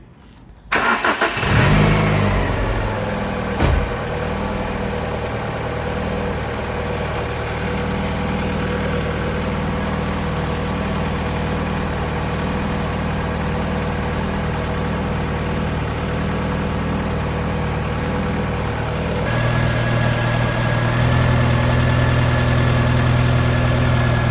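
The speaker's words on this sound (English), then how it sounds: "let's warm the engine up a little bit more and see how much this changes" A Japanese import car's engine starts and then idles steadily while warming up, a low, even rumble for a long stretch, its pitch rising slightly near the end.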